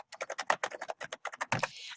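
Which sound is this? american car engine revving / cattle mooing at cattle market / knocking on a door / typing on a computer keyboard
typing on a computer keyboard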